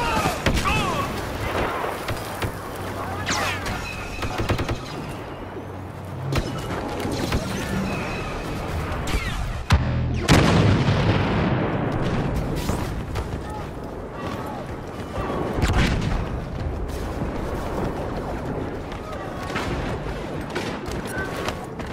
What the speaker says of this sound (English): Bombers are making their attack run.